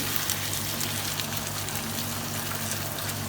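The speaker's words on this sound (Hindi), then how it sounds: "इस स्टेज पर इसके अंदर हम तकरीबन 1/4 कप पानी का ऐड करेंगे" About a quarter cup of water goes into a hot pan of cooking chicken, setting off a steady, close sizzle and hiss that holds evenly throughout.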